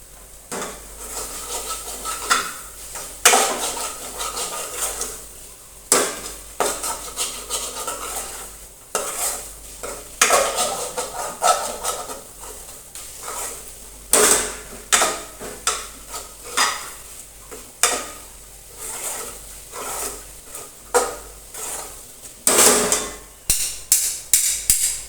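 A spoon scrapes and stirs bhindi masala, okra with flour and spices, in a pan over a low flame. Rhythmic clinks and scrapes repeat against a soft, steady sizzle, with no talking.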